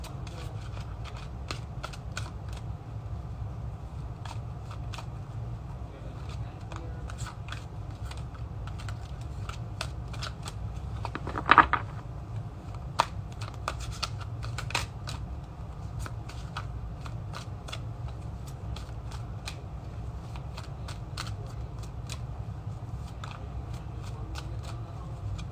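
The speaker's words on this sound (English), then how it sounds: "shuffle for a few more times" Tarot cards being shuffled close up, a steady soft papery riffling that runs the whole stretch, with one sharper snap of the deck partway through and no talking.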